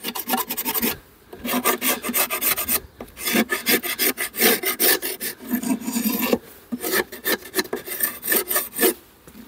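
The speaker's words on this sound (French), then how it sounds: "On gratte bien toute la propolis pour remettre ça nickel." A hive tool scraping propolis off wooden beehive parts, a loud close-up rasping in rhythmic bursts of strokes separated by short pauses.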